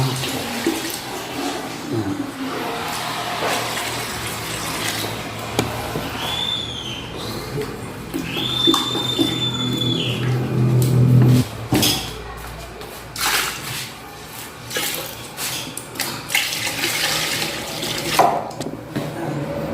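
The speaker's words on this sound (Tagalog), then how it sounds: "bali dalawang tabo na tubig yung nilagay natin" Water poured and splashed into a container of white Boysen gloss latex paint being thinned, with irregular sloshing and trickling bursts throughout, plus scattered handling knocks nearby.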